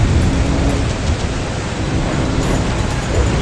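Heavy rain pours steadily in the truck-driving game Truckers of Europe 3, a dense, even hiss that fills the whole scene without letup and stays loud throughout, with no speech.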